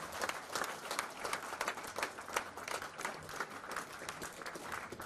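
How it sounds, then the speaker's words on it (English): A big round of applause rises at a local government library opening ceremony in Fiji, with a crowd clapping steadily and densely for several seconds at moderate level. "Ladies and gentlemen, a big round of applause."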